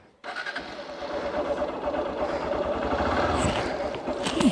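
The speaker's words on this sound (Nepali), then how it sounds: "बाइक स्टार्ट गरौँ है त गाइड्स" A Hero X-Pulse 200 motorcycle engine fires up abruptly after a moment of quiet and settles into a steady idle, loud and close, with a faint voice in the background.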